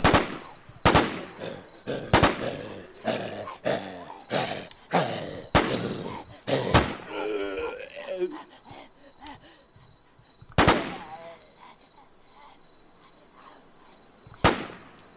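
Gunfire in The War Z comes in sharp, loud single shots spaced out over several seconds, then a longer gap before two more reports, over a constant high insect-like whine from the game at night.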